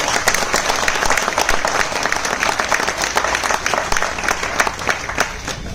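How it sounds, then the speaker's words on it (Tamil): Loud, dense applause fills a concert hall during a stage event with music and dance, an even roar of many clapping hands with a few sharper claps poking through and no talking. "இந்த அரங்கமே அதுற மாதிரி அப்பாவுக்கு பலத்த கரகோஷம் கொடுங்க"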